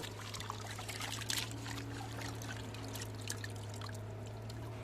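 Water running and pouring steadily into a container at an outdoor village cooking spot, a continuous trickling splash with a low steady hum beneath it, no talk over it.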